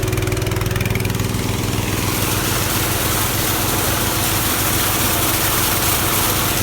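Engine-driven transfer pump moving 30% liquid nitrogen fertilizer from a tank into a sprayer while top dressing hay fields, a steady loud motor drone running continuously throughout.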